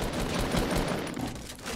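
Rapid, dense automatic gunfire from the video game Fortnite, a continuous loud burst of shots filling the whole moment with no talking over it.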